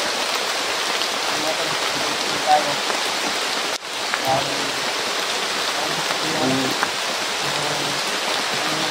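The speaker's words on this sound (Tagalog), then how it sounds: "Gaya ngayon ulan na naman." Heavy rain pouring steadily outdoors, a dense continuous hiss of drops on surfaces, close and loud, with faint voices underneath.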